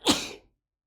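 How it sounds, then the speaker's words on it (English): A single sharp sneeze, loud and close, ending abruptly and followed by silence. "Been sneezing lately, allergies."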